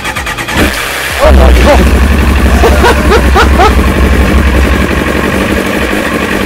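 An old engine with the choke pulled out cranks and catches, settling into a rough, loud running note as a voice exclaims over it.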